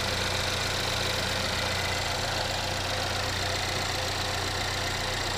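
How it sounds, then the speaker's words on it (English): A 2014 Chevy Equinox with a 2.4 liter Ecotec engine idles steadily, a close, even mechanical hum with a faint ticking rhythm running unchanged throughout, no voices. "It's a 2014 Chevy Equinox."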